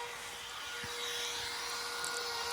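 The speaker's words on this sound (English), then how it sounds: "Now I'm going around with the router here just to soften them edges." A small palm router rounds over the edges of scrap wood, giving a steady high whining drone that holds continuously and moderately loud throughout.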